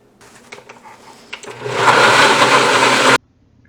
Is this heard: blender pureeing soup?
yes